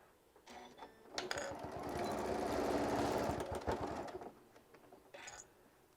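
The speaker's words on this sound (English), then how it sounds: "I'm just going to sew this all the way around at 1/4 of an inch." A sewing machine stitches fabric at a quarter-inch seam, a fast steady mechanical whir rising from quiet, running for about three seconds up close, then stopping, with soft clicks before and after.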